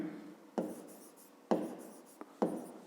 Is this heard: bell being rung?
no